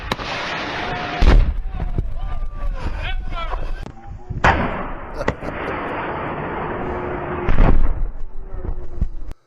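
An AT-4 shoulder-fired rocket is fired in a military mishap, giving a few sharp, loud blasts and bangs with a rumbling aftermath. Voices talk between the bursts.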